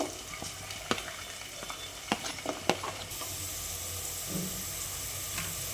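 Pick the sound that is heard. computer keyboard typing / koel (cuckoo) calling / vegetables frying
vegetables frying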